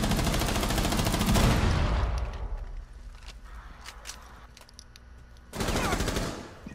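Rapid automatic gunfire in a shooter video game, a loud sustained burst of shots that fades into quieter scattered pops before another heavy burst erupts near the end, with no speech on top.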